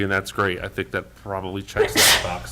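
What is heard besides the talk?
sneeze during a meeting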